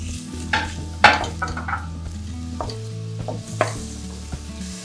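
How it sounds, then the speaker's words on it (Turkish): Carrots being stirred through a sizzling pan for a Turkish celery dish with quince and orange juice, with a steady fry hiss, scraping utensil clicks and clatters, and background music throughout. "Şimdi havuçlarımızı ekliyoruz. Onlarla da şöyle bir çevireceğiz."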